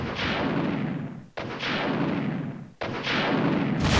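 Missiles launching and exploding in the Resident Evil video game: three long, loud roaring blasts in succession, each with a sharp onset and a slowly decaying rumble, with no talking.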